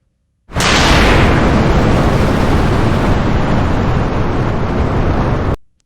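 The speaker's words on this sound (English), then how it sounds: "Rocket." A loud, sustained roaring rumble of a rocket launch, broad and powerful, starting suddenly and cutting off after about five seconds.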